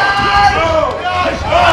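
Audience at a Super Smash Bros. Melee tournament cheering and murmuring, a steady crowd roar mixed with excited shouts, loud and continuous under a commentator talking over it.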